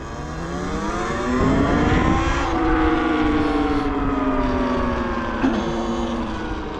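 A 2023 Talaria Sting R electric motorbike accelerates uphill with a rising motor whine that climbs in pitch and holds steady, close, over wind rush.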